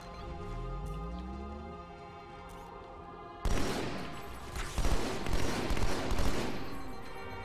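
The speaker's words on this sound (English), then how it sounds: "Being shot by a turret." A turret in the video game Halo 2 Anniversary fires at the player in a dense, loud volley of shots after a stretch of droning engine-like tones.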